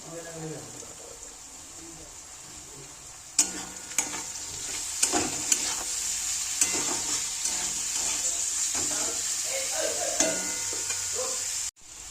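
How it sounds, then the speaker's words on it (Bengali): Carrots and peas fry with cauliflower and beans in mustard oil in a wok, a steady close sizzle broken by repeated scraping stirs and clanks of the spatula. "ফুলকপি আর বিনসটা ভাজা হয়েছে, এরপরে গাজর আর মটরশুঁটিটা দিয়ে দেবো।"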